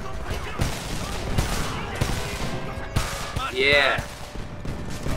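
Rapid gunfire in the shooter Homefront, a steady run of sharp shots rattling over a busy battle bed with a whistling sweep near the end, while a player speaks briefly over the action.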